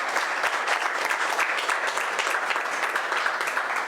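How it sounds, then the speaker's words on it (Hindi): Audience applause at a Rotary Club teachers' awards ceremony, a steady, even wash of many people clapping, moderately quiet and sustained throughout with no talk over it. "जोरदार तालियां आप सभी की।"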